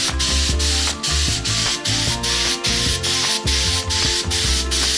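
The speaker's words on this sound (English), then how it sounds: "I kind of want to spray this for you" Paint spray gun working on a motorcycle part in a home garage setup, giving a steady loud hiss in repeated bursts of about half a second with brief gaps, over a low mechanical hum.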